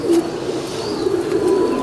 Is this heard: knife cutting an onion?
no